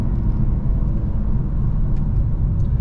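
A 2024 Infiniti Q50 AWD with a seven-speed gearbox driving, a steady low engine rumble heard from inside the cabin, fairly loud and even throughout the short stretch.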